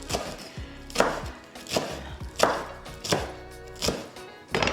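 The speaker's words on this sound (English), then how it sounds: "just take a couple of leaves, kind of roll them, and just do strips" Rolled kale leaves fresh from the garden sliced into strips with a knife on a cutting board, six sharp, close chops at a steady pace of roughly one every 0.7 seconds, with no talking.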